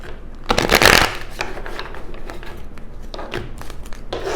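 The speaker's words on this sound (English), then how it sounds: "So I'm going to shuffle the cards." Tarot cards are shuffled by hand, with a loud riffling burst near the start followed by softer, intermittent rustling and flicks of the deck, close up, without any talking.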